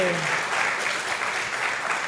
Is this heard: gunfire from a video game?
no